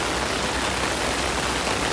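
Mild tropical rain patters on an umbrella during a walk at Royal Phuket Marina in Thailand, a close, dense and uniform hiss with no pauses.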